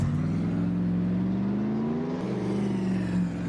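A car engine in Farming Simulator 25 drones steadily as it accelerates, its pitch climbing through the gears with one brief shift partway through, loud and continuous with no talking.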